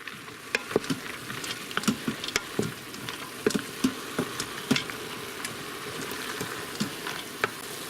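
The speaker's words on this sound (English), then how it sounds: "add them to the mushrooms. Give that all a good stir." Mushrooms and chopped pecans are stirred in a pan, giving a faint steady sizzle broken by soft scraping and irregular clicks of the utensil, with no talking.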